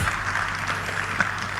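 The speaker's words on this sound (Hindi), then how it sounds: "मेरे लिए ताली बजा लो।" Brief, steady audience clapping at a summit, a short uniform burst of many hands.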